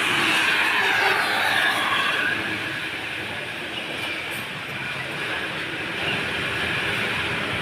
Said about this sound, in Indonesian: terlihat bus IS melintas taklukan tikungan ekstrim si tinjau lalu